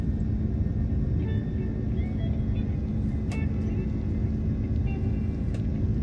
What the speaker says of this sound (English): Nice smooth takeoff, and we were on our way.